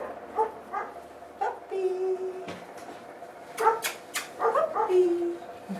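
A puppy gives short, high yips and small barks in scattered bursts with a thin whimper in between. It is close and moderately loud, and quiet human talk comes through under it.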